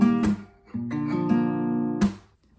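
An acoustic guitar plays the first two plucking patterns of a song, picked notes ringing in a steady, close pattern with a strong pluck near the start and another near the end, no voices.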